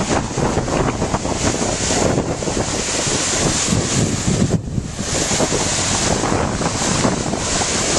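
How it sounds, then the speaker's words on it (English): Waterfall on Greenburn Beck near the abandoned Greenburn Mine, a steady broad rush of falling water close by, constant and loud throughout with no talk. "Here we are, approaching Greenburn Mine on Greenburn Beck. See the waterfalls."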